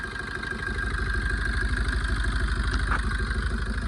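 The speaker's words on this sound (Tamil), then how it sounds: "ஸ்டார்ட் பண்ணும்போது இன்ஜினோட மிஸ்ஸிங் வந்து பார்த்தீங்கன்னா இந்த ஐட்லிங்லேயே தெரியுது" A Maruti Swift engine idles with a cylinder misfire and a suspected head gasket fault, running loud and close with an uneven, lumpy pulsing rhythm and a steady tonal whine over it.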